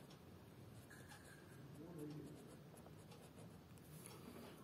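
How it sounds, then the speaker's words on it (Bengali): A pen writes across a paper map of India during a geography lesson, giving a soft, continuous scratching close by while a voice talks over it. "একদম নিচে এখানে লিখব ইন্ডিয়ান ওশেন"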